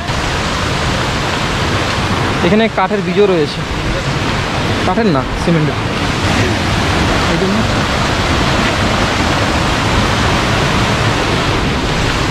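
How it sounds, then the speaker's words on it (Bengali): Rushing water from Bamni Falls at Ajodhya Pahar in Purulia makes a steady, loud, broad roar through the whole stretch, with a person speaking briefly over it. "ঝর্ণার জলের আওয়াজ শোনা যাচ্ছে এখন"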